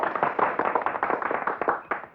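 Villagers clapping together in a Hindi film scene, a dense run of hand claps at close range that holds steady throughout with no talk over it.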